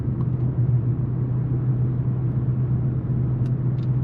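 Inside the cabin of a supercharged Audi S4 in regular drive, a steady, loud low engine drone and road rumble holds throughout with no revving.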